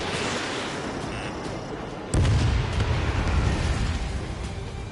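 Missiles launching and exploding in Ace Combat 7: a steady roar of jet noise breaks into a sudden loud, low rumbling boom that keeps rolling and swelling for several seconds.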